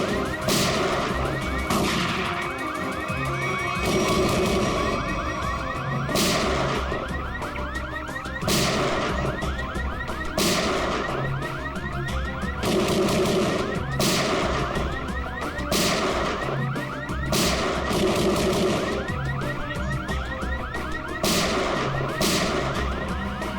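A car alarm that mimics gunfire blasts out loud and close, a repeating pattern of sharp, explosive bangs over a constant harsh electronic wail, continuing without pause and with no talking.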